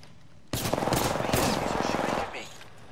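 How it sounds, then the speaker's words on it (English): Automatic gunfire in the battle royale game Apex Legends, a sudden loud sustained burst of rapid shots lasting under two seconds before tapering off. "I'm getting shot at"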